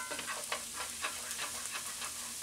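Garlic sizzles and fries in hot oil in a pan while a utensil stirs it, a steady crackling hiss broken by soft rhythmic scraping strokes, close and clear, ending in a sharp louder scrape.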